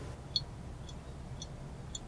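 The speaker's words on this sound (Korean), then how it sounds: "이렇게 요거트로부터 유청이 분리되어 똑똑 떨어지게 됩니다." Whey separating from yogurt drips from a cheesecloth into a pot, giving a few faint, evenly spaced drip ticks spaced roughly half a second apart over a quiet background.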